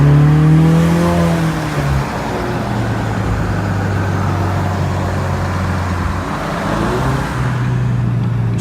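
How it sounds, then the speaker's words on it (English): A car engine turns over and idles, then drives off with a loud, steady low hum and road rumble close by, its tone shifting slightly as it moves, with no one speaking. "Let's get the car started."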